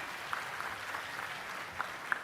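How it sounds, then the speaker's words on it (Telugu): Loud audience applause from a crowd at a public stage event, a steady dense clatter of clapping with a few sharper claps standing out, lasting the whole stretch with no voices over it. "ఆయన గట్టిగా చప్పట్లు కొట్టి అభినందించండి."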